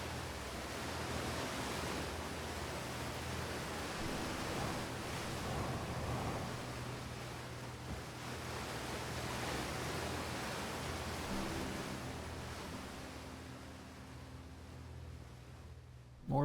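Water rushes in the video game Outer Wilds as a broad, steady roar like surf or a waterfall, loud and unbroken for the whole stretch, with a faint low hum beneath.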